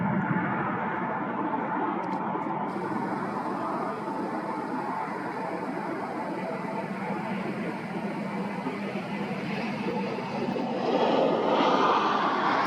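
A British Airways Boeing 747 on Flight 289 near Phoenix gives off a steady, broad jet engine roar that holds constant and swells slightly toward the end, with no speech.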